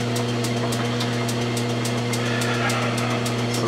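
A Logan metal lathe runs steadily with a constant motor hum and a fast, even whine while it takes a very light finishing skim to crown a gun barrel, loud and close throughout.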